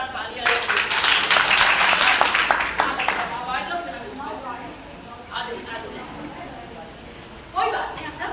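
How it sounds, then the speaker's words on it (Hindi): Audience applause breaks out at a gathering as a doctor guest is welcomed, loud dense clapping for about three seconds before tapering off, with voices speaking over the fading claps. "एक बार जोरदार तालियां"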